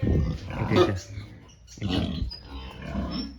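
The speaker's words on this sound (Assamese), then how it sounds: "এতিয়া চাওক এইটো গাহৰি এইটো লগতে এইটো" Pigs on a farm grunt and snort close by in low, rough bursts that rise and fall, heard alongside someone talking.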